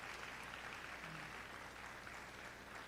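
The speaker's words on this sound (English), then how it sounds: "Please keep clapping till she gets here." An audience at a university staff awards day claps for an awardee walking up, a steady, fairly distant patter of hands that holds evenly throughout without any voices.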